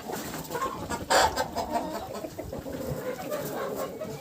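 Hens cluck in a poultry yard where ducks and turkeys are also kept, a steady run of soft clucks with one louder burst near the middle over constant farmyard background.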